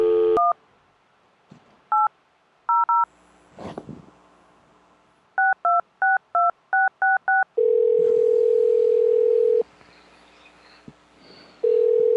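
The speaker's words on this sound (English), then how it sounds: "You have dialed 1-800-MANAMON." Telephone dialing in the video game Manamon: single keypad tones, then a quick pair, a rapid run of seven more, followed by a steady electronic dial tone that pauses briefly and resumes.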